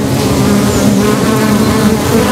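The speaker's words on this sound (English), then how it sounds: "bees may buzz loudly to show their aggression" Dense, loud buzzing of bees fills the whole stretch, a steady swarm-like hum with no voices.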